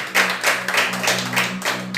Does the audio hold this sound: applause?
yes